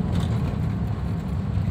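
A 2009 Daihatsu Terios drives in third gear at low speed, its engine a steady, close low rumble with road noise, unbroken throughout.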